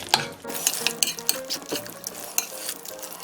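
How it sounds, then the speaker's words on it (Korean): Quick, uneven clinks and scrapes of a utensil whisking oyster pancake batter with egg against a bowl, close and busy, with no voices. "계란 하나를 더 넣겠습니다. 반죽을 해줍니다"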